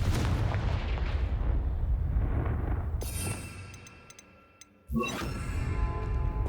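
Confringo blasting spell cast in the Hogwarts Legacy video game: a dense rumbling burst fades out, a brief lull follows, then a sharp loud blast hits near the end and is followed by ringing crackle.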